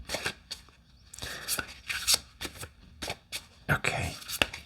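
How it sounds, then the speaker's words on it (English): Crisp riffling bursts of an oracle card deck being shuffled, several quick ruffles in a row at close range, with short pauses between them. "I guess I should shuffle it up"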